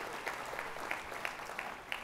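Faint, distant audience applause at an event in an innovation center, a soft continuous patter of many hands with a few sharper claps popping out at regular moments.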